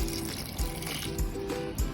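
Water is poured onto chunks of red pumpkin in a pressure cooker, a steady close liquid pour with faint trickling and a few soft splashes throughout.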